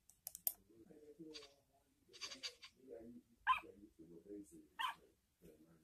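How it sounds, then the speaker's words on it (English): A small cartoon dog yaps in short, high, bright bursts, several quick barks that alternate with voiced cartoon chatter in a quiet scene. "It's a little dog Fido."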